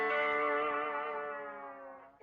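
An electric guitar holds a sustained, echo-drenched note while the tremolo arm bends its pitch. The tone rings out alone and slowly fades over a couple of seconds.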